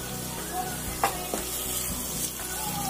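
Garlic ginger paste hits a pan of onions fried until red, giving a steady close sizzle with occasional sharp pops and a spoon scraping and stirring through it.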